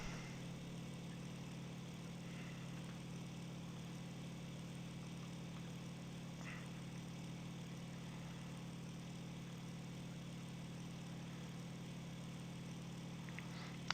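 Vought F4U-1C Corsair radial engine from the IL-2 flight sim, throttled back to reduced power: a steady, even low drone that holds level throughout with no speech.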